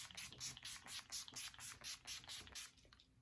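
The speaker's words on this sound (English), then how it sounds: "take an all-nighter setting spray and set that face" All-nighter setting spray misted onto a made-up face, about nine short quick hissing pumps in an even rhythm, close and clear, with no voices.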